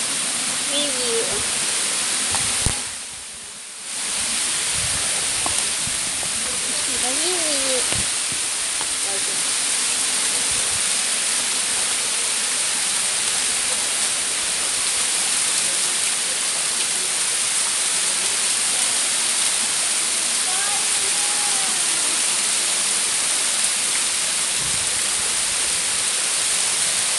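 Steady broadband rush of water from a waterfall near the Dragon Jaw cliff, loud and continuous throughout, with a brief dip partway and faint voices now and then beneath the roar.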